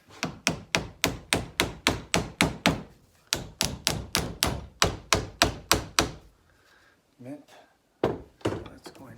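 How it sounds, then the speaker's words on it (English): Rapid, steady hammer blows strike metal in two long runs of sharp, close taps, then a few scattered knocks after a short pause. "I take my hammer."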